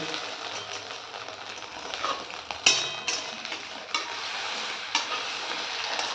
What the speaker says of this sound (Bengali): দেখো ডিমের ভাজাটা ভাজতে হচ্ছে